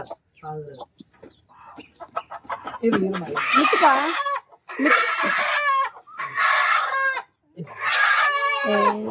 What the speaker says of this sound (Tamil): இந்த கோழி சொன்னா இது சண்டை சேவல் மாதிரி இருக்கு